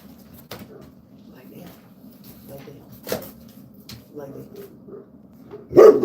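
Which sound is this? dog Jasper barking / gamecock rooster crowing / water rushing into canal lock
dog Jasper barking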